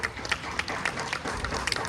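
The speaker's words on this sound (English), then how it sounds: "Big round of applause again for the team." An audience applauds a show team with a brief, dense patter of many hands clapping at once, steady and moderately loud.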